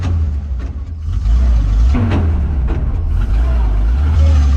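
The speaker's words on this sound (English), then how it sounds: "Don't worry about the grinding noises." A 1948 Dodge Power Wagon pickup drives with a steady, heavy low engine drone, with brief harsher grinding bursts from the gearbox as gears shift, close and loud throughout.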